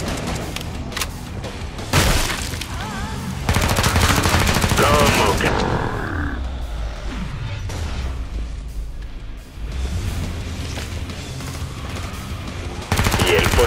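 Gunfire rings out in the video game Killing Floor 2, with loud rapid bursts and booming shots separated by quieter stretches of game ambience, followed by a sustained heavy burst near the end.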